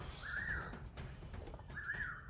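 Two short harsh calls from a crow in a forest, spaced about a second apart, heard at moderate distance over a low rustling background with no talking.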